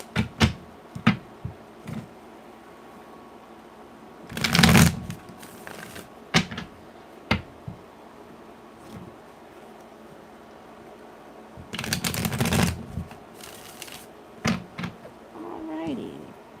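Tarot cards being shuffled by hand in two bursts of riffling and slapping, separated by scattered light taps and handling sounds, close and fairly quiet.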